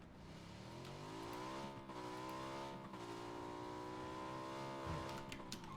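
Engine of a vehicle driven across the Miramar desert in PUBG, a steady rising and falling drone with gear shifts, heard close and continuous throughout.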